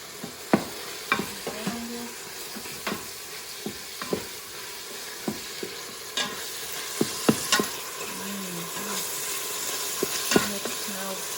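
Beef browns in a pan for a beef and vegetable quinoa dish, a faint background sizzle broken by irregular sharp clinks and scrapes of a spoon, quiet and near, with no one talking.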